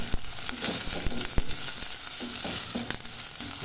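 Onions or oil sizzle steadily in hot mustard oil in a home kitchen pan while cooking aloo palak, with a constant bright crackle and occasional stirring clicks and scrapes, close and fairly loud, no talking.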